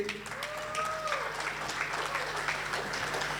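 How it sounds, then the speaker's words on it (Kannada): An audience applauds teen dancers at the Karnataka Vaibhavotsava 2025 cultural show. Dense, sustained clapping from a crowd fills the whole moment, with a faint whistle-like tone rising briefly near the start. "ಮತ್ತೊಮ್ಮೆ ಈ ಜೆನ್ಸಿಗಳಿಗೆ ಚಪ್ಪಾಳೆ ಜೋರಾಗಿ ಬರಲಿ"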